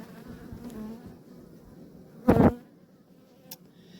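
A steady, low insect buzz of honeybees at a weak hive drones throughout, with a brief louder burst midway as one passes close, then a faint click.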